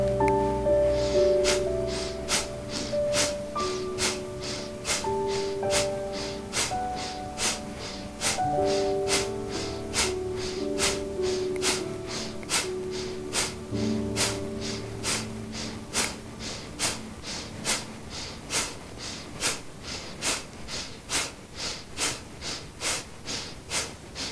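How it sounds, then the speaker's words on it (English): Rapid, evenly spaced forceful exhalations of breath of fire yoga breathing pulse through the whole stretch, close and rhythmic, over soft sustained background music. "we're going to practice breath of fire"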